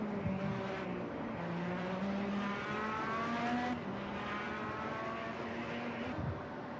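An Indycar in the Project CARS 2 racing game on the Big Willow circuit screams at high revs, the engine pitch climbing steadily before dropping abruptly near the end at an early upshift, loud and continuous with no talk.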